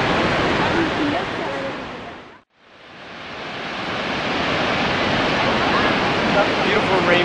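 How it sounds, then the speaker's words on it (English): Niagara Falls, seen from the top of the falls, gives off a dense, continuous roar of rushing water. It drops out briefly at a cut, then swells back to full strength. The roar is heard alone, with no one speaking. "And you can hopefully hear the waterfalls on the video."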